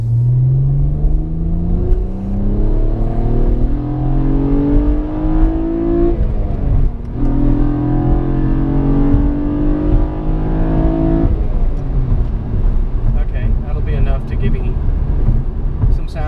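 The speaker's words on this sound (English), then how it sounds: "I'm not going to really hit it too hard, just to get a little engine noise." A car engine revs up in steady rising sweeps, dropping back and climbing again, heard close from inside the car in the driver's long-owned vehicle, with a GoPro-mounted mic picking up a continuous loud rumble and whir.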